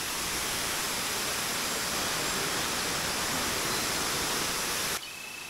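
Waterfalls in a natural outdoor setting, a steady loud broadband roar of falling water that holds constant, then drops off sharply near the end.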